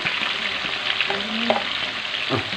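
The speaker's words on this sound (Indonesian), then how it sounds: "kita goreng sampai matang ya guys." Chicken sizzles loudly in hot oil with spices, a continuous close frying hiss broken by a few stirring scrapes, with no voices.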